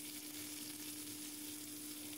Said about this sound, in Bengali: ভালো করে শুকনো লঙ্কা সর্ষেগুলো ভাজা হয়ে গেলে চটপট করে ফুটে উঠলে তারপরে আমি লাল শাকগুলি দিয়ে দেব।